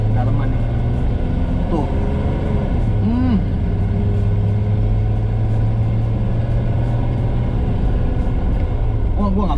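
The engine of a 1961 Mercedes-Benz W111 220S Fintail drones loudly and steadily close by, with a single word spoken over it.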